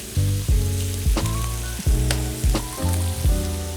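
Garlic and ginger sizzle in hot oil alongside jalapeno peppers as they are stir-fried for spicy Szechuan noodles, a loud steady frying hiss broken by repeated stirring scrapes, with no talking.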